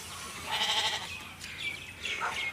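Sheep kept near a rural house among paddy fields, bleating in three wavering calls spaced about a second apart, moderately near against quiet outdoor ambience, with no talking.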